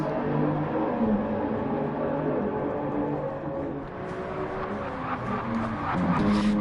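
Toyota Supra Gr.3 race cars in Gran Turismo 7 during an online league race, engines droning steadily with shifting harmonic whine and brief tyre noise, a dense continuous wall of racing sound with no talk.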